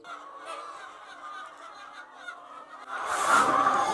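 Laying hens on a modern poultry farm, a chorus of clucking and squawking fowl, busy and fairly near, swelling louder toward the end.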